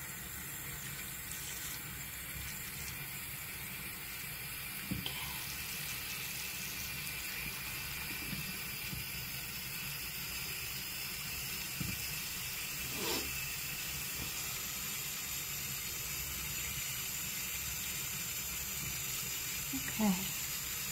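Running water rinses conditioner out of hair, a steady close hiss of flowing tap water that continues throughout, with faint soft bumps and splashes here and there.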